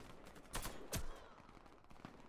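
Gunfire in the online shooter Warface: two sharp, punchy shots about half a second apart stand out, then a few fainter reports follow. The shots are fairly quiet overall, with no talking.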